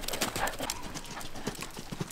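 Horse hooves clip-clop steadily during a riding lesson in a tight space, a close, continuous rhythmic patter of footfalls with faint background noise.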